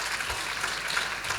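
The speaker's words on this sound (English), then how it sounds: "give a round of applause for all of our panelists" Audience clapping for panelists at a talk event, a brief, steady wash of applause from a crowd with no voices over it.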